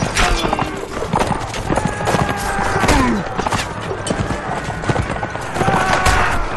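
Horse hooves clip-clop in a steady gallop in Mount and Blade Warband, a medieval battle game, with battle clatter and a brief whinny in the mix, loud and continuous throughout.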